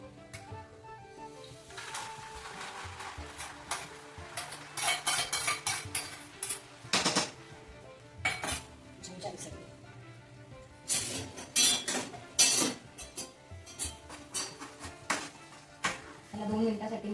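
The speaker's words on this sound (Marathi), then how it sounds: "त्याला 2 मिनिटासाठी मी असं परतून घेतलं." Ground cooked rice sautés in ghee in a pan, with irregular clinks and scrapes of a spoon against metal and a soft sizzle underneath. The clatter comes in bursts of varying loudness.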